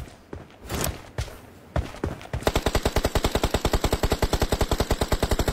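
Video game gunfire: a few scattered loud shots, then a fast, unbroken burst of automatic fire rattling on for several seconds, close and loud, with no voices.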